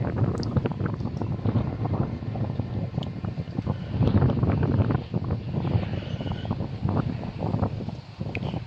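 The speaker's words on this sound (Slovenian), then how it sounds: "Južni veter počasi" Gusty southerly wind buffets the microphone steadily, a continuous rough rushing with no voices, outdoors on the coast at Izola at night, fairly loud throughout.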